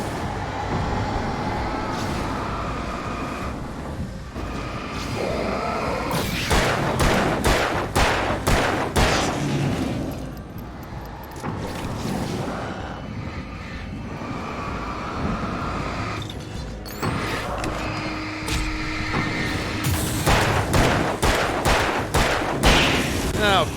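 Video game gunfire in bursts, with rapid automatic shots crackling in loud clusters spread over the stretch, along with other in-game noise.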